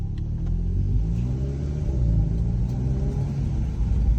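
A VW Polo GTI 6C/6R fitted with a Racing Line induction kit drives on a road, a steady deep engine rumble heard from inside the car, loud and continuous with no talk.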